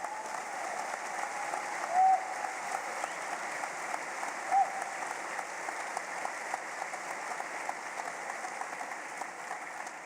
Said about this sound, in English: Can we just have a round of applause for all of you, please?